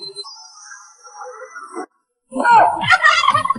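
Rooster crowing in a loud burst that follows a quieter stretch of tonal calls and a short pause.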